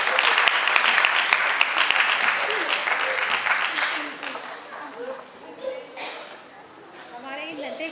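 An audience claps loudly for young performers in a Panchkanya stage show, dense applause that gradually thins and fades into scattered claps and murmuring.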